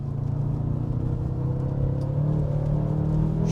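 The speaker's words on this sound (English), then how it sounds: "Hope you guys can hear that engine." A BMW F10 M5 Competition engine hums with a deep, steady drone from inside the cabin as the car pulls under throttle, its note rising slightly over a few seconds.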